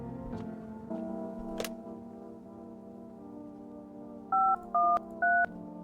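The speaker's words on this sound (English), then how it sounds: "I guess I'll phone my neighbor." Touch-tone phone dialing in the horror game No, I'm Not a Human: three crisp, evenly spaced keypad beeps ring out near the end, following a stretch of steady tonal game ambience.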